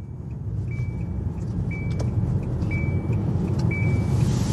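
Car cruising along a motorway carpool lane, with a steady low engine and road rumble throughout, a faint recurring tone on top, and no talk.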